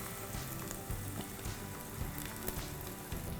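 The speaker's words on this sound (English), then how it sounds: "you're gonna wanna fry them for about a minute on either side" Vegan baji burger patties sizzle and crackle steadily in a hot frying pan, a close, continuous fry with small pops throughout.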